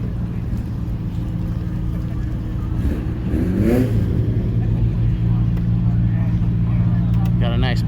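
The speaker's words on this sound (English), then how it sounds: "Do a burnout." A car revving for a burnout at a cars-and-coffee meet: a loud, continuous engine roar that swells in pitch midway and again near the end, with voices faintly in the background.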